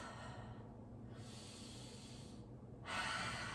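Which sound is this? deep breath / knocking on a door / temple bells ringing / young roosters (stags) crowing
deep breath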